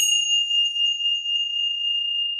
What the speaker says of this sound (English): at the 5-minute mark, I am going to give you chimes